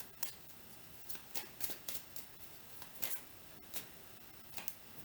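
Tarot cards are shuffled by hand, giving a faint, quiet series of soft irregular riffling clicks and flutters spread over several seconds.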